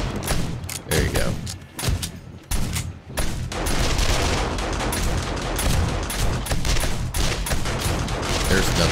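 Rapid bursts of shotgun turret fire in 7 Days To Die during a horde night, dense overlapping blasts over a continuous din of combat.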